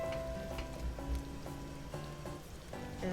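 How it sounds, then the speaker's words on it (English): A pot of seafood with green onions boiling, giving a faint, steady bubbling and simmering hiss that runs evenly throughout, quiet and close. "So we can just go let it boil for a couple of minutes"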